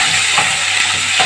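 Onion frying in a pan for an Upper Egyptian okra and meat stew, a loud close continuous sizzle with a couple of soft stirring scrapes.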